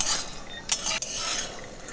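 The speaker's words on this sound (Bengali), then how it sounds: "এপিট ওপিট করে ভেজে নিচ্ছি বাদামগুলো।" Peanuts, about 250 grams, stirred and dry-roasted in a wok for peanut chikki, with close scraping and rattling of nuts against the metal and a couple of sharp spoon clinks, no talking.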